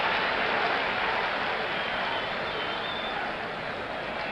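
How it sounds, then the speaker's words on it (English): Sustained crowd applause and cheering from a large stadium audience at the 1970 World Series, Reds at Orioles, a steady dense wash of clapping that fades slightly toward the end. "the applause gets a little louder with every out now"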